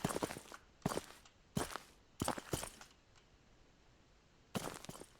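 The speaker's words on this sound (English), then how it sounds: "our footsteps are incredibly loud" Loud character footsteps in an Unreal Engine 4 game, a run of sharp, heavy steps in uneven rhythm with a pause before a final step, heard alone without talk.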